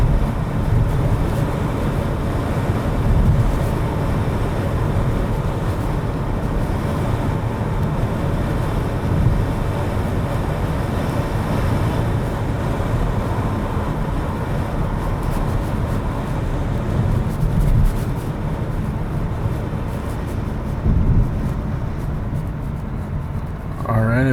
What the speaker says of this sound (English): Pretty smooth ride.